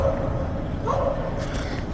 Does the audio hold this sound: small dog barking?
yes